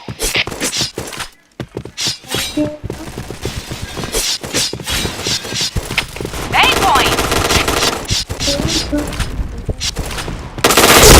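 Machine gun fire in a shooter video game, loud rapid bursts of automatic shots with short gaps, breaking glass and game effects, with a voice talking over the action.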